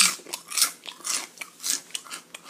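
Someone bites and chews matzah, each bite a dry, brittle crunch repeating every half second or so, close and loud with no talking.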